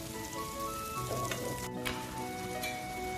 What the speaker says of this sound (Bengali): পেঁয়াজটা হালকা বাদামি করে ভেজে নিচ্ছি।